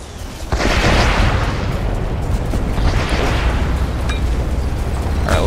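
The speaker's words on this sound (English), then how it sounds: "Ooh, I can get an airstrike, though." Airstrike explosions in the Renegade X video game, a loud sustained roar of booming blasts that surges in after a brief lead-in and rumbles on continuously, with scattered crackling bursts on top.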